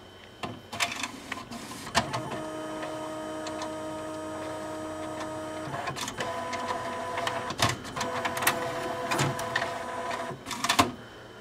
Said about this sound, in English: when I first turn it on, it first tries to move the cartridge all the way to the right because there is no encoder strip